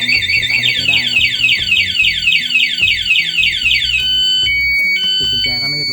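An anti-theft alarm on a Yamaha NMAX 155 motorcycle, loud and close, wails in rapid repeating electronic chirps that shift into steady alternating tones, continuing without stopping.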